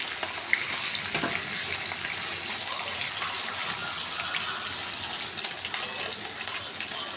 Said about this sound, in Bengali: উল্টে ডিমগুলোকে হালকা করে ভেজে নিচ্ছি।